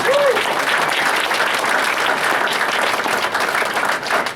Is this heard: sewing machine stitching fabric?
no